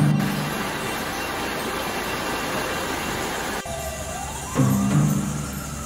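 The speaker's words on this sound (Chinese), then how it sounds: "好在是消防车" A fire engine siren rises and wails at a distance near a swollen river during a tubing trip, emerging after a steady rush of water and wind noise.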